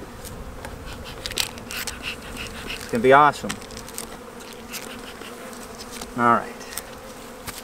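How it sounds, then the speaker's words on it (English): Honeybees buzzing around an opened hive during a spring colony inspection, a steady close hum with a few louder passes near the microphone, while a person speaks briefly. "Smoke these bees up, don't crush any."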